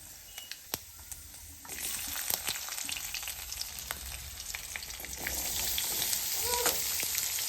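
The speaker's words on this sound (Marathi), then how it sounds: "आता आपण या सर्व वस्तूंची या भाजीला फोडणी देऊ" Spices for tempering a vegetable dish sizzle and crackle in hot oil up close, a steady frying hiss that grows louder after a moment and keeps popping throughout.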